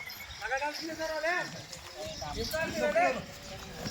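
A pair of Malvi bullocks walks at a livestock fair, their hooves clopping in a loose, uneven rhythm close by while someone talks over them throughout.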